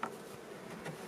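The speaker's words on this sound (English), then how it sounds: "shake the bees off of those frames" Honey bees buzz on hive frames during a queen search, a faint, steady insect hum with a couple of slightly louder swells and no voices.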